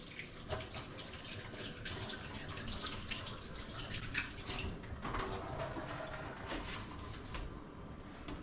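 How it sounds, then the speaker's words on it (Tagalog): Tap water runs steadily into a sink while hands are washed under it, with splashes and small clatters over a constant soft rush, fairly faint and with no voices. "maghuhugas lang ako ng kamay"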